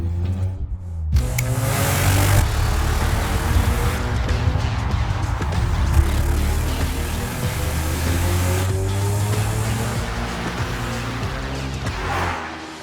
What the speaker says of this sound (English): we have put a mic under the hood, back by the exhaust, inside of the car, on me, to transfer the driving experience to you through the sound